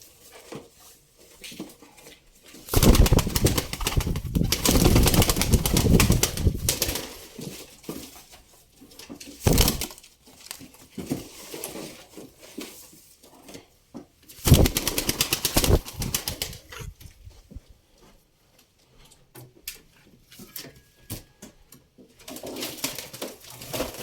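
Pigeons coo softly with bursts of wing flapping, loud flurries coming and going between quieter stretches of cooing nearby.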